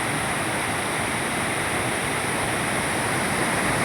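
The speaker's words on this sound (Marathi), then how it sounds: "पाण्याचा आवाज बघा किती आहे" A roaring waterfall swollen by rain, a dense, loud, unbroken rush of falling water that fills the whole short span without any voices.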